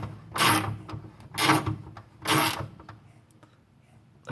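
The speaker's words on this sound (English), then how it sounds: "7/16 wrench." Three short bursts of metallic ratcheting from a 7/16 wrench snugging a bolt on a hood rocket trough of a 1957 Chevrolet, evenly spaced about a second apart and close by, then trailing off into quiet small clicks.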